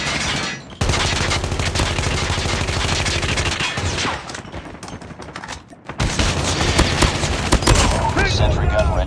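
Sniper rifle gunfire in a military shooter video game: loud, dense bursts of shots and explosions fill the clip with a brief pause, mixed with in-game radio voice callouts.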